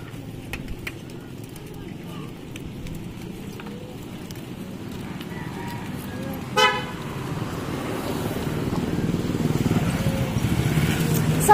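Cars pass in dense street traffic with a loud horn toot around the middle, over a steady roar of engines that builds toward the end, with voices talking throughout.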